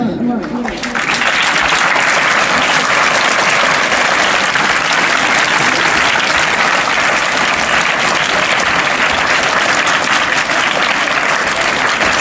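Loud, sustained applause from a large audience at a school Children's Day event, starting after a brief quiet moment and continuing steadily throughout.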